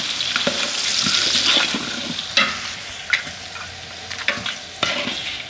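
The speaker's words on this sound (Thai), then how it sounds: "ผัดเครื่องเทศมาได้ 2 นาทีนะครับ ใส่หอมแขก แล้วก็ผัด" Onions stir-fried with spices in a large pot of beef curry for seventy people, giving a steady sizzle with repeated scraping stirs and occasional sharper clanks, close and alone.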